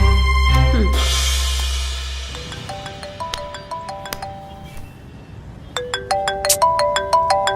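A mobile phone ringtone plays alone, a bright electronic melody that starts loud and then repeats in a run of short chiming notes, growing stronger again toward the end.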